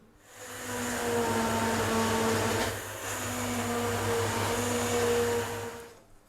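A hand blender purées pumpkin soup spiced and made with coconut milk, giving a steady whirring motor drone that runs close and loud in two long bursts with a brief dip between, and no talking.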